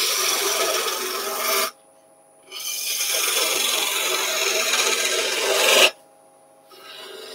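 A woodturning spindle gouge cuts a roller bead on a spinning lathe workpiece, giving a loud, continuous rasping scrape in two long passes separated by a brief silent pause.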